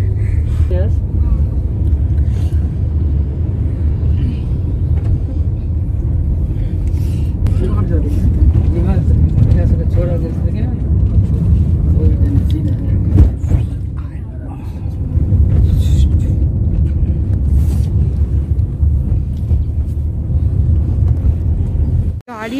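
A car drives to a restaurant for a family dinner, its low, steady road and engine rumble filling the cabin continuously, with faint voices now and then.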